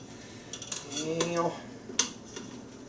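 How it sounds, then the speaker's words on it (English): Metal tongs clink and scrape against the cooking basket of a Ninja Foodi while lifting out a frozen pizza, a few light metallic taps and a short rattle, quiet and close. "Let's see if we can get this out with the tongs."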